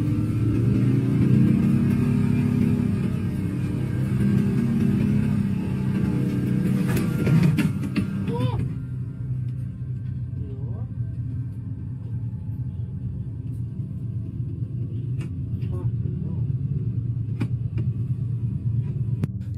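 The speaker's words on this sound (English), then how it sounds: "The vehicle was being driven between trees when it went over a bump and came to an abrupt halt." A car engine rumbles steadily while the vehicle is driven off-road between trees, loud and close throughout, easing in intensity midway as it comes to a halt, with no talk.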